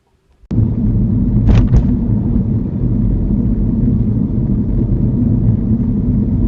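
A learner's car pulls away from a stop during a mock UK driving test. A sudden engine rumble starts and holds steady and loud close by, with a couple of brief clunks early on.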